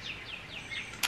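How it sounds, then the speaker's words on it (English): Outdoor birdsong: a quick series of about four thin, falling chirps repeats rapidly, light and fairly faint over a soft background hiss, ending with a brief sharp burst. "But all the birds are out today too. I love just listening to the birds."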